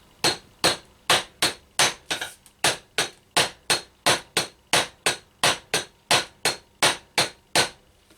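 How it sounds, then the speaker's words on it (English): A rubber mallet knocks a fork seal into the fork tube of a Honda CA Rebel 125cc motorcycle: about twenty crisp, evenly spaced taps in a steady rhythm, close and alone. "I'm going to gently, hopefully gently tap it in place"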